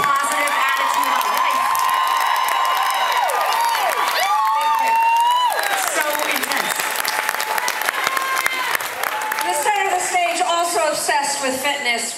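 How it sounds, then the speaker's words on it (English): A concert crowd at the NC Museum of Art in Raleigh claps, cheers and whoops for a band member. The loud, continuous roar is full of shouts and high cheering voices. "So I want to give him an extra round of applause"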